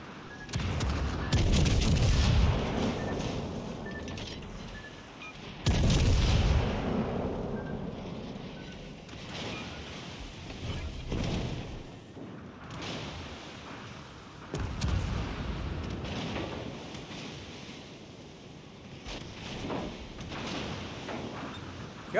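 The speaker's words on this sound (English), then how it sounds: "Come on, fire your guns." Heavy warship guns firing in World of Warships Legends, with repeated deep booming salvos that land in bursts at a steady interval, loud and close. Quieter rumbling carries between the shots.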